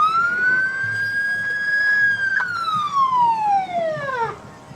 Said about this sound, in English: I'd like to buy that just for the siren.